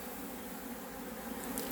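Honeybees at a hive produce a continuous close drone. The dense buzzing stays even throughout, with no voices.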